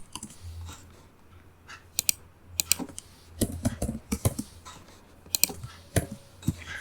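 Computer keyboard typing Python code, with irregular bursts of close key clicks and short pauses between strokes, no voice present.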